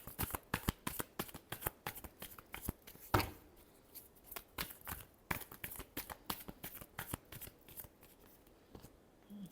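Tarot cards being shuffled by hand, a rapid run of crisp riffling snaps and flutters with brief pauses between bursts, close and clear with no talking.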